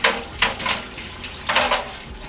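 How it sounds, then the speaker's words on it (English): Onions being drained of their water in a kitchen sink, heard as close, bright splashing and clattering of metal cookware in irregular bursts, with no talking. "So what I'm going to do is slough off some of this water."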